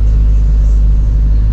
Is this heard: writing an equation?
no